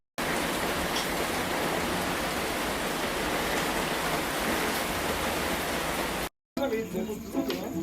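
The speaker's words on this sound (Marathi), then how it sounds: "पाऊस सुरू झाला." Steady rain falls with a dense, even hiss for several seconds, then cuts out briefly before a short stretch of different, quieter sound.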